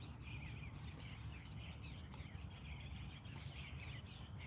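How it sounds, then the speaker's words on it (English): Birds chirp outdoors in scattered, faint high calls over a steady broadband rush of background noise. The calls keep going throughout with no voices. "As the birds start coming out and playing"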